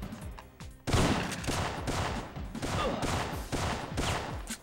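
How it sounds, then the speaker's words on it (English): A scientist enemy fires at the player in Syphon Filter's Rhoemer's Stronghold mission: a sudden burst of rapid, repeated gunshots that keeps going for several seconds, loud and dense, with a game soundtrack underneath. "Yo, is that fucking scientist fucking shooting?"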